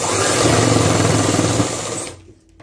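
A sewing machine runs loud and close as it stitches a school uniform skirt, a steady fast whirring buzz that stops abruptly near the end.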